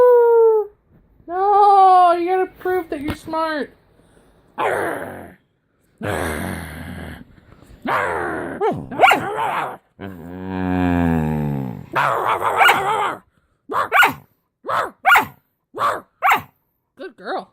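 A female pet dog howls in drawn-out, wavering tones, answering a person who imitates barking and howling, then breaks into a string of short, sharp barks; close and loud, with the owner talking and praising between sounds.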